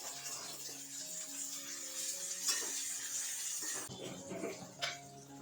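Onion, tomato, turmeric and red chili masala fries in oil in a pan, a soft steady sizzle with scraping stir strokes and occasional metallic clinks of a spoon against the pan.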